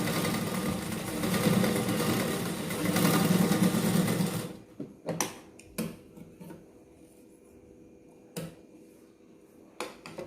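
A sewing machine stitches steadily with a fast, whirring mechanical rhythm for several seconds, then stops, leaving a few sharp clicks and taps from the machine.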